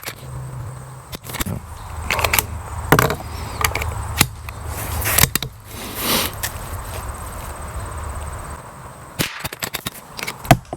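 Sharp cracks from an Aguila .22LR rifle ring out at irregular intervals, several close reports with short gaps and a few handling clicks and thumps between them.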